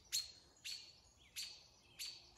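Robins give sharp, high alarm calls at an owl, four evenly spaced scolding chirps about half a second apart, faint and somewhat distant in a quiet spring outdoor setting.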